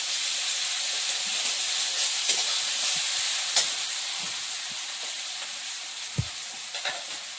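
Ginger-garlic paste sizzles and hisses steadily in hot oil in a pan, a constant frying sound with a few faint clinks of stirring, near and unaccompanied by talk.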